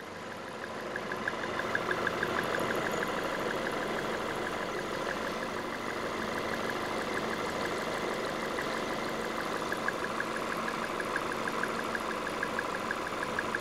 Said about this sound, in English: it's that rotating mass and it's spinning against the side of my stethoscope probe that's creating the vibration in the tool